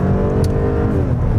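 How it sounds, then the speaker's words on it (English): Supercharged V6 engine of an Audi A7 on a country road, a loud steady drone with rising harmonic tones as it revs, heard alone and close. "I love the sound of this supercharged V6"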